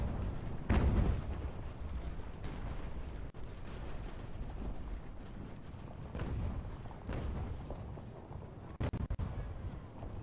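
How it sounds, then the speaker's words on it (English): Cannon fire from 6-pounder guns shooting canister in the strategy game Ultimate General: American Revolution, heavy booming blasts and dense rumbling battle noise continuing throughout, with one sharp loud report near the start. "they're going to just eat canister fire from these boys, which have nice 6-pounder guns"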